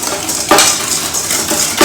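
A whisk beats egg yolks with sugar in a bowl for crème brûlée, close up. Quick scraping strokes carry brighter metallic clinks that recur about every second and a quarter.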